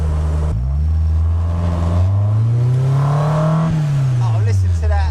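Revving engine of a Mazda MX-5 with a fully forged turbo build on a dyno, fitted with a sausage air filter; a loud, steady drone climbs and falls in pitch with strong induction noise, close and continuous.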